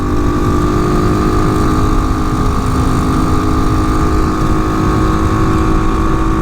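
TaoTao TBR7 250 Chinese dual sport motorcycle cruising, its steady engine drone buzzing loud and constant beneath heavy, continuous wind rush throughout.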